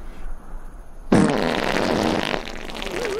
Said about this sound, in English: The farts are too much.